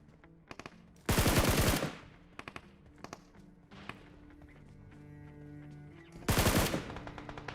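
Gunfire in the BGMI mobile battle-royale game: two loud, rapid automatic bursts about five seconds apart, with scattered single shots and thuds between them over a low ambient game bed.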